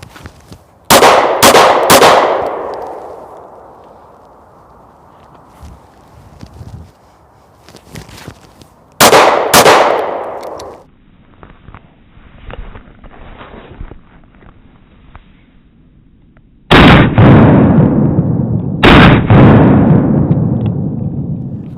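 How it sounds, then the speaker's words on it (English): Handgun shots fired on a range after drawing from an IWB concealed-carry holster: three quick loud reports near the start, a pair around the middle, then two more at the end, with quiet handling noise between volleys. "Now let's do a little shooting and show you what it's like drawing from this holster."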